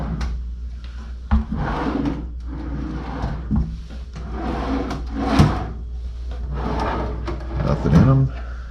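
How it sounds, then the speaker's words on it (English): Wooden drawers in a Renaissance Baton Rouge Hotel room sliding open and shut, with a few sharp knocks and thumps scattered through steady nearby talking. "Down here below we have a few drawers."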